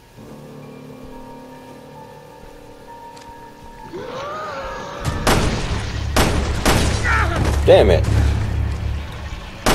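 Gunfire in Resident Evil Revelations 2 as an enemy is shot: after a quieter tonal stretch, a series of loud, sharp shots and booms bursts out over rumbling game noise, with a player's voice speaking.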